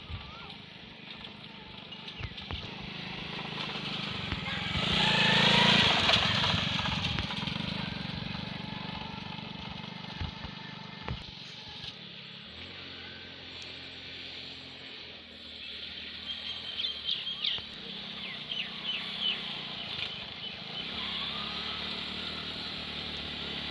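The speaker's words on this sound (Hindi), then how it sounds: "चाचू जान मोटरसाइकिल चलाना सीख रहे हैं और वो खेतों में मोटरसाइकिल ले आए हैं" A motorcycle is ridden around empty farm fields by a learner rider, its engine droning steadily at mid distance for most of the stretch, with a louder rev near the start and outdoor rural ambience throughout.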